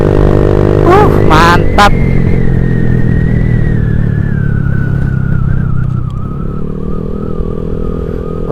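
Honda Vario 150 scooter fitted with a Black Devil aftermarket exhaust, a loud close steady engine drone with a brief revving pitch rise, then easing lower near the end, while someone speaks briefly.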